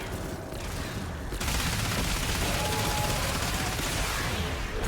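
Dense, continuous gunfire in Warframe, a constant loud barrage that swells after a brief lull at the start and carries on without pause.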